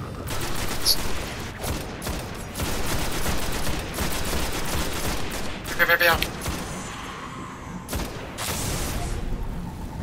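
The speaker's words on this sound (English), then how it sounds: "Shooting and stabbing." Gunfire from the video game Destiny: dense, continuous rapid shots and bursts fill the whole stretch, loud and close, with a sharper burst near the middle and talk mixed underneath.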